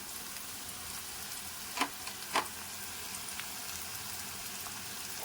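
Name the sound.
stirring spices frying in a pan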